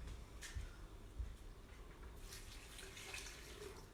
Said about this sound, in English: We're going to pop some water in here. I'll use my pot.